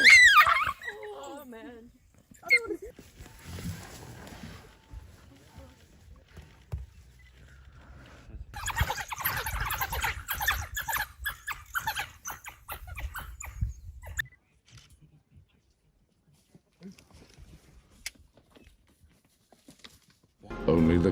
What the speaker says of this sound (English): Oh my god, look at this! Wild dogs. Fighting.